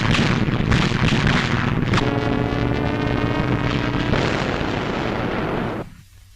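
Heavy anti-aircraft guns firing in a 1944 wartime newsreel, loud continuous booming and roaring blasts with a dense rumbling wash throughout, ending abruptly as the sound drops away.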